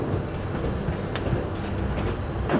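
Steady rumble of a passenger train interior on the air-conditioned ride to Olympia, Greece, a continuous low drone with faint intermittent clicks, no talking.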